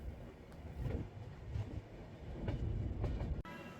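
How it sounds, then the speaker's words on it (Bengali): The 15960 Kamrup Express passenger train, running Dibrugarh to Howrah, begins moving again, with a low rumble and faint clatter growing under wind noise, heard from on board. "বন্দে ভারতকে পাস দেওয়ার পর আমাদের ট্রেন আবার চলতে শুরু করলো।"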